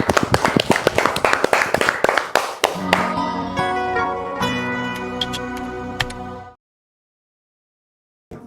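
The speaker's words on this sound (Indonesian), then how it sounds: "Ya, tepuk tangan buat kita semua." A classroom group claps in brisk, scattered applause, then a rhythmic clap pattern settles in briefly before the room falls silent.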